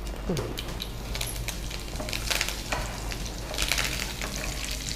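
Curry leaves sizzle and crackle in hot tempering oil with a steady frying hiss and occasional louder spits, heard up close.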